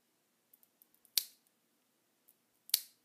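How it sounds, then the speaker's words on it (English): Two crisp snips of scissors trimming excess plastic from an RC4WD TrailFinder 2 Hilux body, quiet and close, with faint small clicks of handling before and between them. "let's go ahead and trim off this little excess here"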